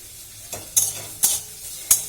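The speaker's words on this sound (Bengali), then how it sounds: "দেখো পেঁয়াজটা ভাজতে দিয়ে দিয়েছি" Onion frying in a pan, a low sizzle under a few sharp spatula scrapes and clinks spaced about half a second apart, close by and with no talking.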